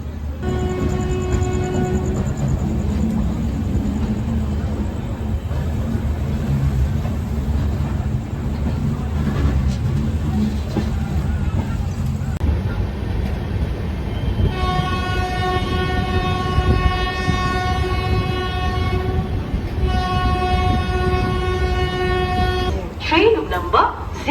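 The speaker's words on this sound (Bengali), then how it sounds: "সব কিছু ঝামেলা মেটার পর ফাইনালি আবার ট্রেন ছাড়লো" Shalimar Puri Superfast Express train pulling out and running, a steady loud rumble of carriages with horn-like tones sounding in the later part, while people talk throughout.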